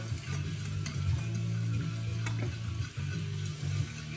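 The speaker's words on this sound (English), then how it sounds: "And go ahead and put your artificial sweetener in. And we're just going to whisk this up." A sauce with artificial sweetener is whisked in a saucepan, producing a continuous close rattling and scraping whirr over a faint sizzle, without any talking.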